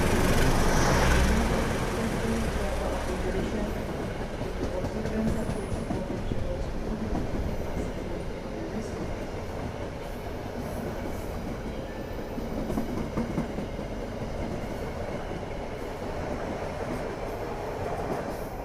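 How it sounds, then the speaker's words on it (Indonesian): The Gaya Baru Malam Selatan economy train pulls out of Cirebon Prujakan station, heard from on board as a steady rumble and rhythmic wheel clatter with faint squeals, fairly loud throughout. "pukul 16:05 sudah diberangkatkan dari stasiun Cirebon Perujakan"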